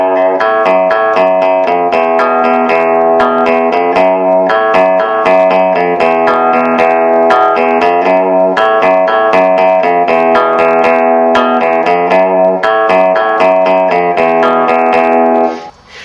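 A distorted electric guitar plays a riff, a steady repeating pattern of loud, even notes running throughout and stopping abruptly at the end, with no voice.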